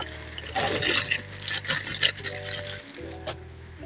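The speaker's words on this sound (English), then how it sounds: "We're going to rinse. We're gonna rinse the lentils first." Water running and splashing while lentils are rinsed in a kitchen, with an uneven patter and slosh close by and a steady low hum underneath; no one talks.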